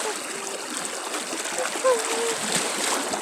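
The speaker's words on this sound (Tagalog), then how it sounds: "Grabe yung agos ang hirap ko labanin." Strong river current rushes and splashes around someone wading across it on the way to school, a steady close watery roar with a brief louder splash midway.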